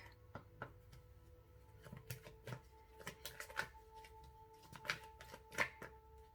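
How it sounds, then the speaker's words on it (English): Quick riffling and soft slaps of Angel Oracle deck cards being shuffled, in short irregular bursts with a steady faint hum underneath. "So let's shuffle some cards from the Angel Oracle deck."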